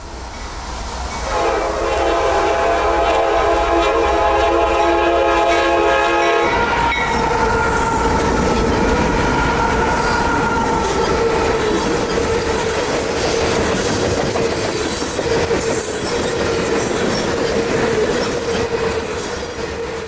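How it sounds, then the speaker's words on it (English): A Norfolk Southern train horn blares for several seconds, then a long freight grain train rumbles past nearby with steady clattering wheels and metallic squeals. "First up was, surprise, surprise, another grain train."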